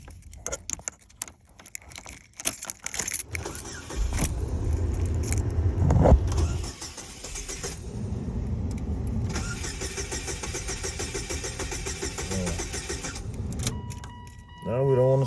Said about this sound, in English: Then you can start the car.